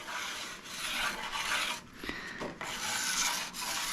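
A tool rubbed in light back-and-forth passes over a rough spot on a ski's steel edge during tuning, giving a close, gritty rasping scrape in repeated strokes, with no voices.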